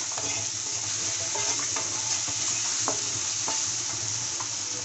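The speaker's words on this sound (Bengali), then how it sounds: "মশলাগুলো দেওয়া হয়ে গেছে, এখন আমি ভেজে নেব।" Spices for a capsicum curry frying in a pan with a continuous close sizzle, punctuated by occasional soft stirring scrapes, steady in level and without speech.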